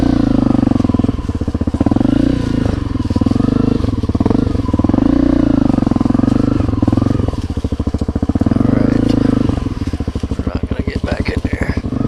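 A Honda CRF250L dual-sport motorcycle is ridden along a wooded trail, its engine droning steadily throughout with rising and falling throttle and some clatter. A rider talks continuously over the engine noise.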